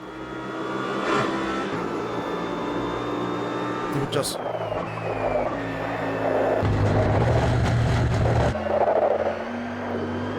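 An older race car's engine in a racing simulator hums and revs through several gear changes, its pitch stepping up and down, beneath steady spoken commentary.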